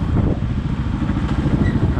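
A Crossfire RM 250 dirt bike rides alongside an NS 200 and a TVS 200 on the road to Manakamana, Gorkha, their engines a loud, steady, close drone with wind rush and no talking.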